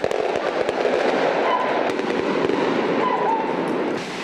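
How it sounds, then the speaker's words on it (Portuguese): Fireworks set off by drug traffickers in Rocinha, a Rio de Janeiro favela, crackle and pop continuously in a dense, loud burst of rapid small bangs with no talking. "Os traficantes soltam fogos."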